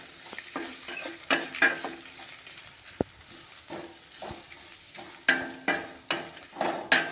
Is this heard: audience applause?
no